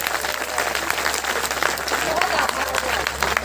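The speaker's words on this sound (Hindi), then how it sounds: "ताली बजा के बताओ कि कविता की महफिल में कैसे देखा जाता है" Audience applause at a Hindi poetry gathering (kavi sammelan), a dense sustained burst of many hands clapping throughout, loud and close.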